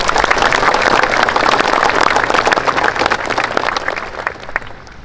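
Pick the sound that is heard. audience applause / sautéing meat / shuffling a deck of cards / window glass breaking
audience applause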